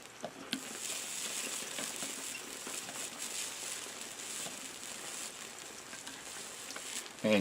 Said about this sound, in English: And you just hear that sweet and sour pork just going.